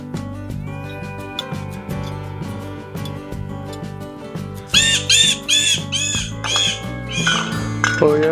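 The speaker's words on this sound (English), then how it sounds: "Oh yeah, birds." Squawking birds call outdoors at a hillside tree house build, with harsh repeated cries over the last half, loud and close, on top of steady background noise from the site.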